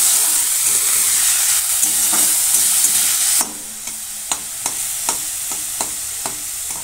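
Spinach with carrots, beans and a pinch of salt fries in a pan. Loud, steady sizzling first drops to a softer crackle, then regular spatula scrapes and knocks against the pan's surface come through close by.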